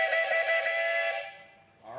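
A 1919 Port Huron steam traction engine at an outdoor steam show sounds its whistle in one loud, sustained, tonal blast that fades out after about a second and a half.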